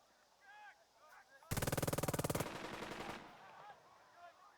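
A single sharp, rapid burst of machine gun fire, about a second long with evenly spaced shots, rings out in the WWII tactics game Burden of Command. Faint honking bird-like calls and soft ambience sit underneath before and after.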